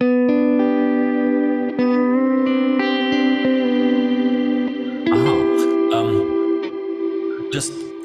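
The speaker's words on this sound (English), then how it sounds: "the reverb fades in and kicks a little bit later in" Electric guitar run through a Kemper Profiler with reverb and a 15% input swell, sustained chords and notes ringing with a reverb tail that fades in slightly after each attack, close and steady.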